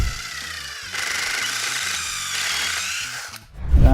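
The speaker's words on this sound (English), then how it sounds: "Now I'm going to drill this hole down till I hit my stop" A power drill bores a hole down into a wooden workpiece for a clamp rack, its motor whining steadily for about three seconds close by, then cutting off sharply.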